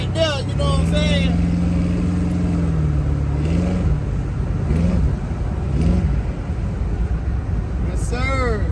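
An LS3-swapped car idles in traffic with a steady, close engine drone that lifts in a few brief revs, while someone talks over it at times.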